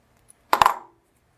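Twisted beading wire snipped with cutters while making French beaded willow leaves, a single sharp metallic click close up, brief and clear against silence.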